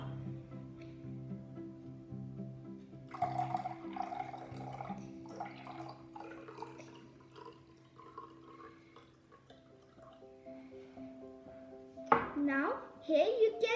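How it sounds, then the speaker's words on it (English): Liquid gently poured from one glass into another during decantation, giving soft trickling and dripping with a brief louder splash near the end, with faint background hum. "we will pour the supernatant liquid gently in the another glass without shaking it"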